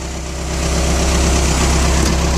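A Tiger brushcutter tractor's engine runs at a steady idle after being cranked, a loud, close, low diesel-like drone with constant throbbing vibration that swells slightly in the first half second and then holds even.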